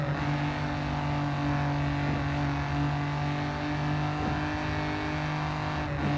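Race car engine in Grid 2 holds a steady, loud drone at high revs along a highway stretch, with faint tire and road noise, no talk.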